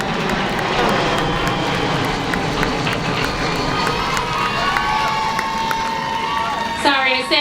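A fixed-wing airplane drones steadily overhead at an outdoor high school graduation ceremony, its broad engine roar running throughout beneath a cheering crowd and a voice over a loudspeaker.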